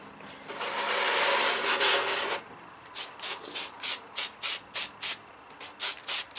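Aerosol can spraying clear coat onto a scale model, first a long steady hiss, then a rhythmic run of about ten short close bursts.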